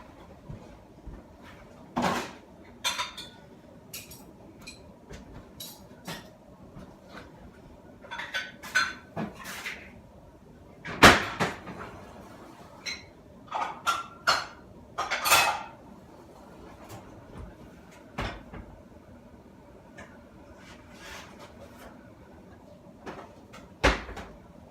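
Kitchen cleanup after cooking: dishes, pots and cutlery clatter and clink as they are washed and put away, with cupboards and drawers opening and closing in irregular bursts, sometimes loud and close, mostly without talk.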